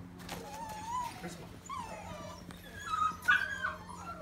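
Several puppies whimper and yip in high, wavering cries close by, with repeated bursts over a few seconds and faint background hum.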